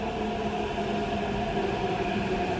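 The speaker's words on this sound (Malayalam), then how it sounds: "അതുകൊണ്ട് നമ്മുടെ മെട്രോ വന്നിരിക്കുകയാണ്" A Hyderabad metro train bound for JBS Parade Ground pulling into a station, a steady low rumble with a humming tonal whine that builds slightly louder toward the end, no voices.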